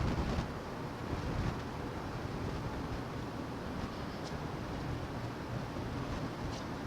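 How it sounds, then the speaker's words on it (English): Wind blowing steadily along a downtown city street in Grand Rapids, Michigan, a continuous broadband rush and buffeting across the microphone with no voices. "Boy, this wind, it's nice, it's cooling me off"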